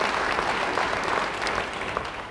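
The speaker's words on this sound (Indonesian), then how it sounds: "Yang mau beri tepuk tangan bagi dia." Congregation applause during a church sermon, a steady dense clatter of many hands clapping that holds for a couple of seconds, then eases slightly toward the end.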